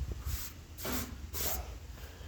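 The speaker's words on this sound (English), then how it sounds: "use the spray gun to do the job" A spray gun lays urethane primer onto a truck fender in three hissing bursts, each lasting about half a second, separated by short pauses, close and fairly quiet with low background rumble.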